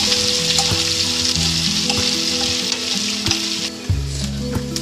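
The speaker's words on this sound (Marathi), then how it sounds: "थोडासा कांदा टाकायचा आपण चिरलेला, तो चांगला गोल्डन ब्राऊन भाजून घ्यायचा" Chopped onion frying in a pan for Maharashtrian dalcha, giving a loud, steady sizzle with occasional stirring scrapes and pan knocks throughout, no voices.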